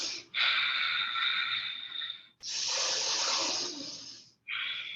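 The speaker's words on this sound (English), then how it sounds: "Breathing in and out through the nose." Slow, deep breaths drawn in and pushed out through the nose during a Kundalini yoga session, each long airy breath close and steady, with short pauses between inhales and exhales.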